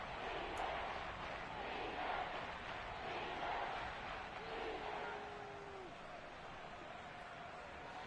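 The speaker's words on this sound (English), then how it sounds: "The crowd getting into it as we come up on a big 3rd down" Stadium crowd in a Madden football video game, a steady wide roar of cheering that holds at an even level for the full stretch with no clear breaks.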